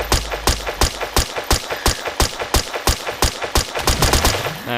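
AK-47 assault rifle fire in the physics game Newton's Playground, a rapid regular burst of about a dozen loud, sharp shots at close range with no talk over it.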